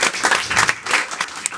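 Short burst of audience clapping at a comedy club show in France, a mid-sized crowd applauding loosely, with scattered claps and a few louder peaks over about a second and a half.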